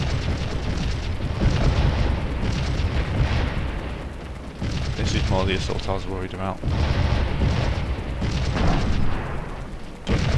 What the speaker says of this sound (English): they're firing on this regiment again, and see mass cannon hitting them